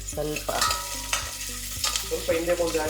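Onions and curry leaves fry in a pan for a mutton kaima saaru, with close, sharp scraping stir strokes recurring every half second or so over a soft background sizzle.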